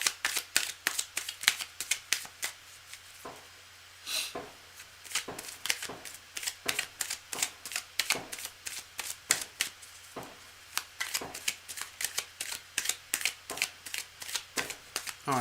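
Cards are shuffled for a tarot reading in a long run of rapid, crisp riffles and slaps, close and fairly quiet, with brief pauses between bursts over a faint steady background hum.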